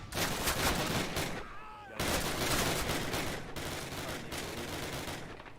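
A video game's 88 gun fires point blank at an incoming tank: loud, heavy gunfire bursts in rapid repeated volleys with brief gaps, close and dense, under occasional talk.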